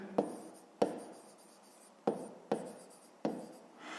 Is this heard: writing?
yes